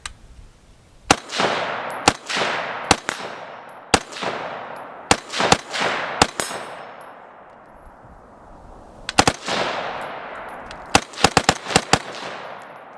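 Fostech Stryker rifle with an Echo binary trigger fires sharp, loud shots that come singly and in quick pairs, each followed by a long ringing echo. One fast burst of several shots comes near the end.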